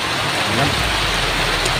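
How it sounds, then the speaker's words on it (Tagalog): Steady rain hisses evenly and loudly outdoors, a dense wash of noise with no pauses or breaks. "Ulan tol."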